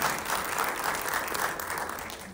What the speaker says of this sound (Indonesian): Mari kita kasih amplus tepuk tangan bersama.